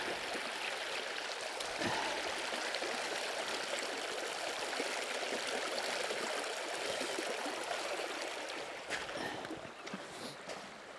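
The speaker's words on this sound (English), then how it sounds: "as you can see that creek kind of running behind me there" Creek water at 12 Mile Creek near Queenstown flows steadily with a broad, even rushing wash that holds close and fairly loud throughout, easing slightly near the end, with no talking.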